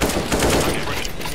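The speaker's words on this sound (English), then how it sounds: "let machine gun do its work" A machine gun in CS:GO Zombie Escape rattles in a dense, continuous burst, loud and close.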